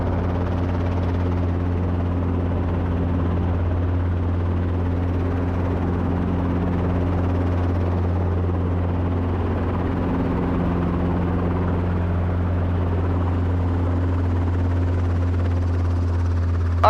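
A helicopter just touched down beside a river, its engine and rotor droning in a steady, loud low hum with a constant whine, unchanging throughout and with no voices.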